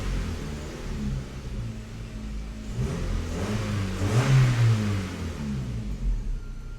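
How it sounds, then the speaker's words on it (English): A 2005 Vauxhall Astra G with a 1.6 Twin Port engine, suffering low power and rough running, is revved hard from idle, the engine note rising and swelling to a peak before settling back, heard close by. "We'll give it the gun, see if that can heat the sensor up enough."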